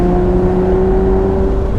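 An Aston Martin DBS V12 holds a steady rev around 4,000 RPM, a loud, smooth engine drone with a strong, even tone and no talk over it.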